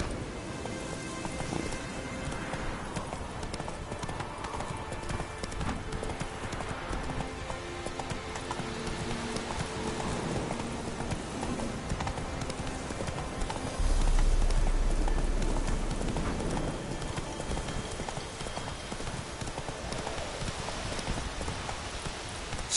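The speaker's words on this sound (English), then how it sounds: "That's it, Roach. Giddy up" Hooves of the horse Roach clip-clop at a steady gallop in The Witcher 3, a continuous rapid drumming mixed with a rain-like hiss throughout, fairly loud and up close with a slight swell midway.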